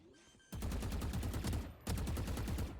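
Rapid automatic gunfire in the Valorant video game, two loud sustained bursts of closely spaced shots, the first longer than the second, with a brief pause between them.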